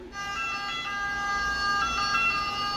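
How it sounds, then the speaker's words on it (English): An ambulance siren wails steadily throughout, loud and close, its tones holding over low traffic rumble with no voices. "it's the ambulance that we called for the sick woman downstairs"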